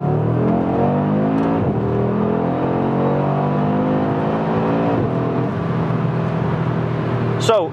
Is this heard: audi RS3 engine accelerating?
yes